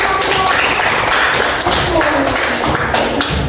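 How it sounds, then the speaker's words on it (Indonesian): Sixth-grade pupils clapping hands together in an elementary school classroom, a dense burst of fairly loud claps, with voices mixed in. "Coba tepuk tangan untuk Akila"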